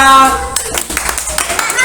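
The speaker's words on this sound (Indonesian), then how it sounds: "beri tepuk tangan untuk kelompok 2" Young schoolchildren in a first-grade classroom clap for a group of classmates, a loose burst of hand claps starting partway through and continuing unevenly, with a voice talking just before and children's voices mixed in.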